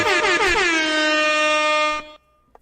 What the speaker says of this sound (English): Double air horns.